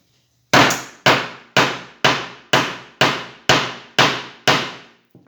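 Eight sharp, evenly spaced hammer blows ring out close by as fabric is fixed onto a screen printing frame, each strike decaying quickly before the next.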